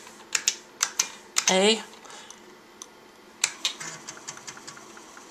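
Keys clatter on a vintage IBM personal computer keyboard in a short burst of separate clicks, then a pause and a lighter run of taps, with a brief spoken word near the start.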